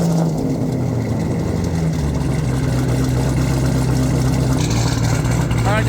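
A 1200-horsepower twin-turbo Corvette Z06 with a custom exhaust idles loud and close, a steady deep rumble with a slight roughness, while voices talk faintly underneath.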